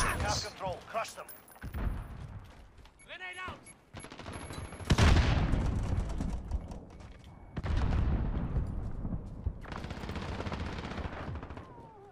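Desert Eagle pistol fire in a Call of Duty: Modern Warfare team deathmatch, heavy booming shots and bursts of battle noise mixed with game sounds and someone talking over it.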